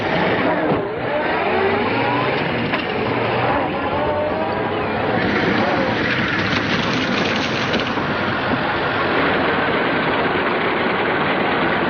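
An Earthworm crawler tractor from a 1936 film runs with a steady, dense engine rumble and clatter that holds loud and unbroken throughout, with no clear voices over it.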